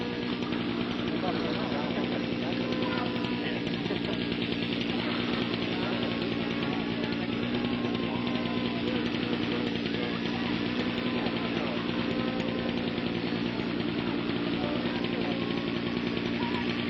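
A model airplane engine drones steadily overhead at a New Hampshire flying field, a continuous buzzing whine holding even in level throughout with no gaps.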